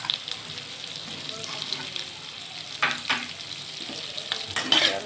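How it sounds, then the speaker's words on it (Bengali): Potatoes fry in a pan while being stirred, a close crackling sizzle broken by several scraping strokes of the spoon, growing busier toward the end with no talk. "আলুটা নেড়ে ফেলে নেবো"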